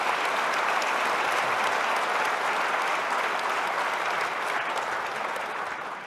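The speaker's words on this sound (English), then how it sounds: "can we ask you to give us a round of applause?" An audience at a tech conference talk on Argo CD and chaos engineering gives a sustained round of applause, many hands clapping densely and evenly before it gradually tapers off slightly.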